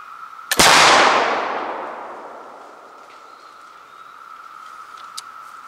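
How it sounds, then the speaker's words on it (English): An English flintlock fowler fired at a target outdoors: one sharp, loud blast that rolls off into a long fading echo, followed by a faint click near the end. "I'm going to put a few more rounds down on that target, and we're going to see how it does."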